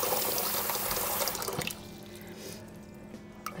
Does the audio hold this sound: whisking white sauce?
no